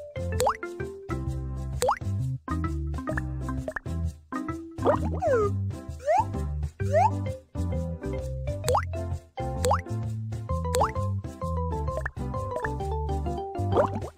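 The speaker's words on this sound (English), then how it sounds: "Apply some eye drops to wash the sand out." Cartoonish dripping and plopping as eye drops are applied in the mobile game Baby Panda World, with repeated bright, bouncy drip tones over a steady playful music bed. No voice is heard.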